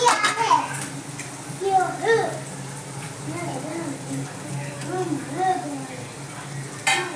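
Turmeric, cumin and ground coriander-cumin are stirred into a sizzling pan for a spiced rice dish, with frying and scraping under steady children's voices and talk.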